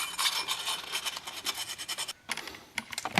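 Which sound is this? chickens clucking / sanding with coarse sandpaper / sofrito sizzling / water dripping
sanding with coarse sandpaper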